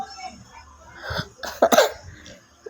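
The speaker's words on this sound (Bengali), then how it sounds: "খাইতে গিয়ে কাশিও চলে আসছে" Several sharp, close coughs burst out in quick succession while eating spicy chaat, with throat-clearing and breathy sounds between them.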